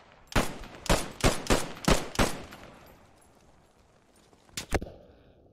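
In the WWII shooter Post Scriptum, during a tournament match, a rifle fires six loud, closely spaced shots in a quick rhythm. After a pause, two more cracks follow near the end.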